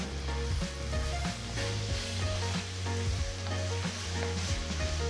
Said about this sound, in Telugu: సో ఇప్పుడు నేను రెండు టీ స్పూన్ల సోయా సాస్ ఒక టేబుల్ స్పూన్ చిల్లీ సాస్ ఒక టీ స్పూన్ ఉప్పు వేసి కలుపుతున్నాను